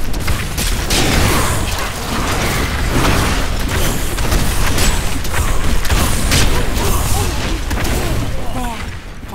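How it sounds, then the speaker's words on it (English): Explosions burst in the Diablo 3 action game, dense overlapping booms and crackling blasts filling the scene alongside battle noise, with voices heard over the chaos. "The ritual is disrupted. Explosions for everyone!"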